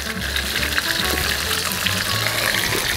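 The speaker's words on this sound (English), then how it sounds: "So, mainit na yung wok natin. Ilan muna tayo ng coconut water." Coconut water hits a hot wok and sizzles loudly and steadily up close, a bright continuous hiss with no voices.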